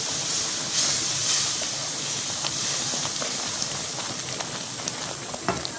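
Sugar syrup pours into besan halwa sizzling in a hot pan with desi ghee, giving a steady loud hiss and crackle with small sharp pops throughout, no voices.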